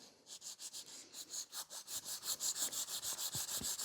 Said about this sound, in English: So more filing.